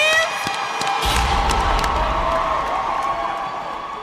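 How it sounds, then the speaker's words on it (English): Crowd at a live hair battle competition show, cheering, whooping and clapping loudly and steadily for about four seconds, with children's shrill shouts and a few voices rising above the roar. "let's give each and every one of them a great round of applause right now"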